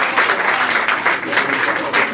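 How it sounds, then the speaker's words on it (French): A comedy club audience applauds for the comedian's sister, who is giving birth to twins: loud, dense, continuous clapping from a full room, near and steady throughout. "que exceptionnellement on applaudisse juste pour elle"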